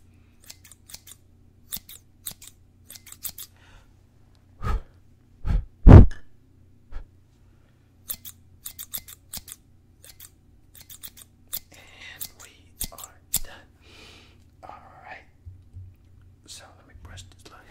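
Scissors snipping hair during a haircut, close and crisp, with scattered single cuts and short runs of snips over soft whispering.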